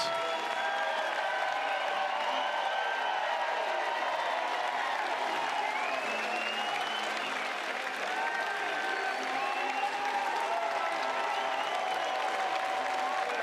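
Steady crowd applause fills a college baseball stadium during a Super Regional game between Arizona and North Carolina, a continuous wash of clapping and cheering that holds at an even level throughout with no clear talk on top.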